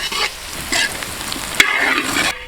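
Shallots and onions are sautéed in a pan over medium heat, a continuous close sizzle broken by scraping stir strokes and one sharp clink.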